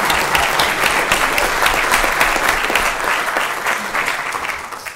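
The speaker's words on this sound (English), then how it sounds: "like a big round of applause for me." A theater audience applauds at an album launch concert with loud, sustained clapping that begins to thin and fade slightly toward the end.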